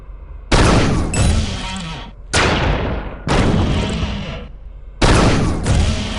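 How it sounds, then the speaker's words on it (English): Four practice shots from the dispersion pistol in Unreal II: The Awakening, each a sharp, loud burst that trails off in a decaying energy hiss. They come at uneven intervals, close and alone with no talk. "The dispersion pistol doesn't pack a whole lot of punch, but it's always there for you because it never runs out of ammo."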